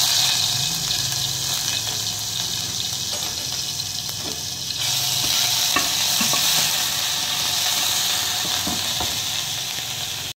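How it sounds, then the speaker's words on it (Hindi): Garlic-ginger paste sizzles steadily in hot oil in a pan over a low flame while potatoes are being cooked. A continuous close frying hiss is broken by occasional stirring clatter, with no talk. "और इसमें मैं ऐड कर रही हूँ फ्लेम लो करने के बाद लहसुन अदरक का पेस्ट"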